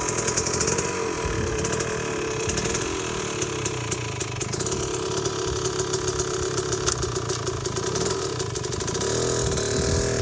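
A dirt motorcycle engine runs hard and steady while a rider works the clutch and throttle through a rough rocky rock garden on the Millican Plateau, its buzzing drone close and loud with rapid flutters of revving throughout.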